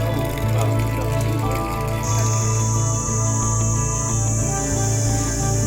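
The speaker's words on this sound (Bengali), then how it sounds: "ঝিঝি পোকার ডাক" Crickets chirp along a forest trail in a Nepali village on the Sandakphu trek, a continuous shrill insect drone over a low steady hum, with a high piercing tone joining partway through.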